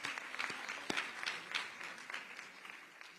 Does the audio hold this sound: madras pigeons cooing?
no